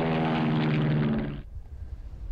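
A propeller airplane roars loudly overhead in the pixel-style war video game WarTroops 1944, a steady droning engine that cuts off abruptly, leaving faint background noise.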